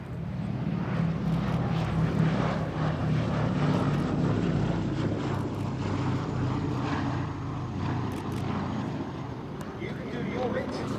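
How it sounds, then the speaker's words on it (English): The Boeing B-17 bomber Sally B roars past on a final pass at an air festival, with smoke on two engines, a deep steady multi-engine propeller drone and a public-address voice talking over it throughout. "this final pass by Sally B we dedicate, as always, as smoke comes on 2 engines"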